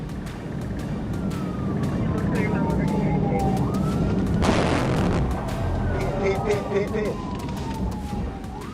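A wailing siren sweeps up and down, steady and fairly near, over loud road and engine noise, with a sharp burst of noise midway.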